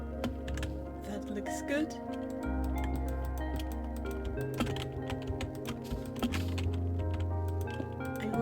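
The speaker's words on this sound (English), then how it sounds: "My keyboard is very loud and clicky." Loud, clicky computer keyboard typing runs steadily throughout as a rapid patter of sharp keystrokes, mixed with a game's background music and someone briefly talking.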